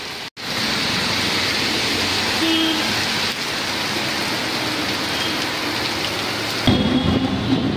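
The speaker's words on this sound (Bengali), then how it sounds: "মুসলধারে বৃষ্টি পড়ছে পুরো।" Heavy downpour on a Kolkata street, a dense, steady roar of rain that stays loud and close throughout, with a brief dropout near the start and a slight shift in texture toward the end.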